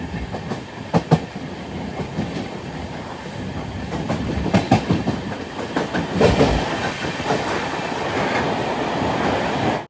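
The Panchaganga Express runs through a long tunnel beneath a large hill, a loud, enclosed roar with rhythmic wheel clatter that builds and stays dense throughout.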